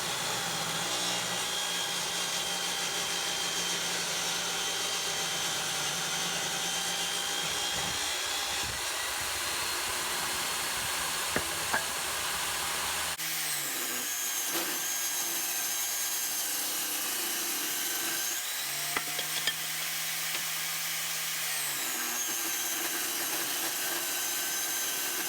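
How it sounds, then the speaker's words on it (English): A table saw rips walnut boards to width, a sustained whining cut with a brief break midway, then the blade spinning on alone; loud and close, no speech. "So I've set my fence on my table saw to 2 1/4 inches"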